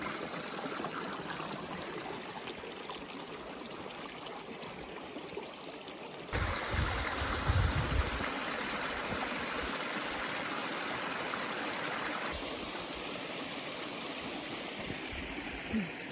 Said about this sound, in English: here's the little creek that comes down, probably just snow melt off the mountain